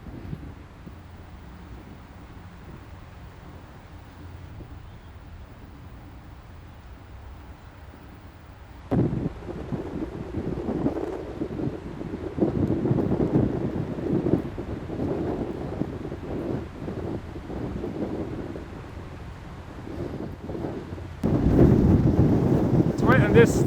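Gusty wind buffets the microphone on a mountain climb, quiet at first then swelling into loud rumbling blasts, with a voice speaking through the noise.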